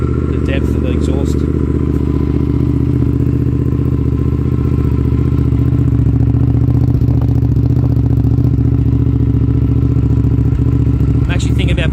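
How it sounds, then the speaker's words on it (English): A motorcycle with a bolt-on exhaust idles with a deep, steady rumble and exhaust throb, close by and continuous, with faint clattering over it. "Not sure how the phone's going to dictate the actual noise of the bike."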